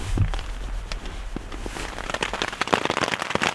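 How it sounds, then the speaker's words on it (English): Morning rain falling on a tent while camping in the Ruby Mountains of northern Nevada, a steady close patter with dense irregular drop impacts that grow busier toward the end. "Still raining."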